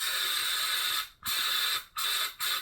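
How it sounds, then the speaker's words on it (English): An aerosol can of insect spray hisses in long bursts, a roughly one-second spray followed by two shorter ones, each ending in a sharp cutoff, loud and close with no talking. "clearly this spray is not fucking working"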